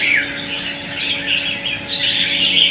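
A red-whiskered bulbul (chào mào), a wild-caught bird, chirps and twitters in quick, bright bursts close by, calling steadily throughout with no talking.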